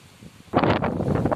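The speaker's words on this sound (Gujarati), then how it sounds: "વરસાદ સાથે પવન પણ આજે ઘણો છે" A sudden gust of strong wind during rain buffets the microphone with loud, rough rumbling after a quiet start.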